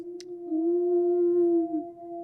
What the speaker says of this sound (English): the wolf howl. It plays every week. It sounds like this.